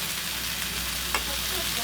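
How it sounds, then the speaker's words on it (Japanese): Vegetables sizzle and hiss steadily in a hot pan at a tiny izakaya counter, a continuous frying wash with a brief louder stir-clatter partway through, no talk. "じゃあ春野菜炒め"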